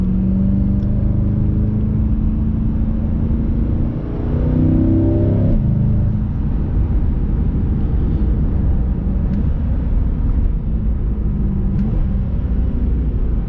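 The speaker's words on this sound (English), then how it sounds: "These downshifts are crisp. Ooh. A little backfire." Chevrolet C8 Corvette on the road, a loud steady engine rumble with quick rising and falling revs as it downshifts, heard from inside the car.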